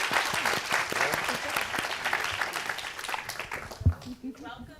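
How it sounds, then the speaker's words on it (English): Audience at a climate change symposium applauding, a sustained wash of many hands clapping together that fades out toward the end, with some voices mixed in. "let's give them a round of applause."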